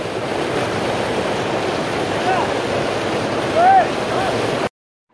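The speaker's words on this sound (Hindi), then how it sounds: "यहाँ से नावा सीधा पानी बह के जा रहा है नावे में" Water rushes steadily down a channel toward a water-powered grain mill, a constant close roar of flow with a faint whistle-like tone rising briefly before cutting out.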